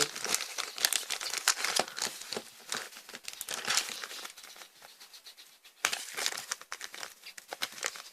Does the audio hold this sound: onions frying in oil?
no